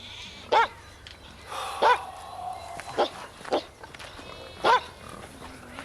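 A dog barks in short, sharp bursts, about five separate barks spread unevenly across the stretch, fairly close and loud against a low background hum, with no talking.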